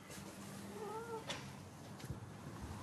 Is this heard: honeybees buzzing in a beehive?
no